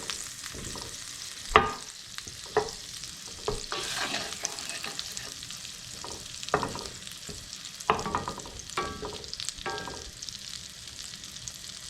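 Butter sizzles steadily in a hot pan with Italian seasoning, broken by sharp clinks and scrapes of a utensil stirring now and then, close and moderately loud with no talking.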